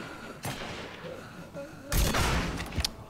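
Gunfire in the Mafia 3 video game during a firefight, with a few sharp shot bursts, the heaviest near the end, loud over a busy game soundscape.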